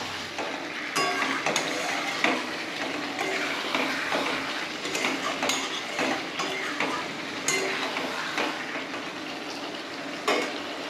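Potatoes and eggs frying in spice masala with fried onion, a steady sizzle broken by repeated scraping and clinking as a spoon stirs the pan; close, moderately loud, no voices.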